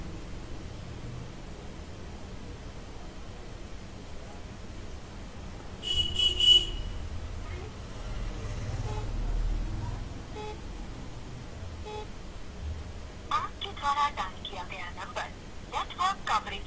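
A mobile phone on speakerphone redials a number: short bursts of electronic tones around the middle and a faster run of beeps near the end, over steady background hiss.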